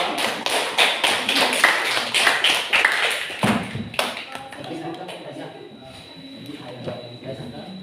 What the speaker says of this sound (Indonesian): Jadi tepuk tangan dulu untuk Natasha dan kawan-kawan.